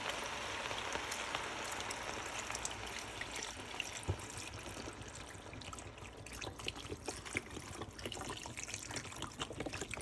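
About six cups of chicken stock pour steadily into a soup pot with a continuous splashing gush, close by, thinning toward a trickle near the end.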